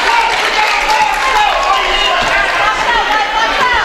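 A large crowd at a high school boys' varsity basketball game on senior recognition night fills the gym with a loud, steady roar of voices, cheers and murmurs, continuous from start to finish with no distinct speaker standing out.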